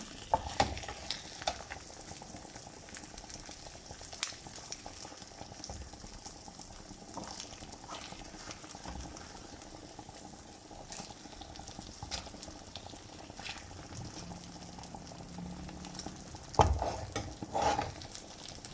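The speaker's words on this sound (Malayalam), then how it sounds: "നമുക്ക് ഈ ഫിഷ് പൊരിഞ്ഞു പൊരിഞ്ഞു വരുന്നു എന്ന് നമുക്ക് നോക്കാം മറിച്ചിട്ട് കൊടുക്കാം" Manthal fish fries in a pan with a soft, continuous sizzle and bubbling that stays faint, broken by occasional scrapes and clinks as pieces are turned over.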